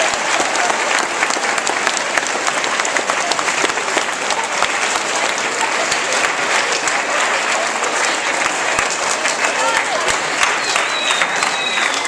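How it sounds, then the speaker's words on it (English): Audience applause fills a high school lyceum event, a dense, steady wash of clapping that holds at full strength for the whole stretch with no voices rising above it. "One more round of applause."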